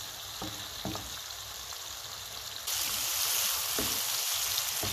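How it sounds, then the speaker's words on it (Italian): Vegetables for peperonata, with tomato already softening, sizzle in a frying pan; a continuous close hiss that grows louder partway through, with a few soft stirring knocks and no talk. "aggiungiamo in padella le verdure"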